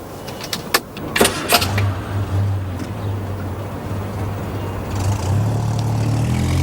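A car engine starts, with a few sharp clicks and clunks at first, then the engine catches and settles into a low, steady idle that rises a little near the end, heard from inside the car.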